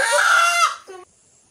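A household pet rooster lets out a single loud, close crow that rises and then breaks off into a short, trailing final note before silence.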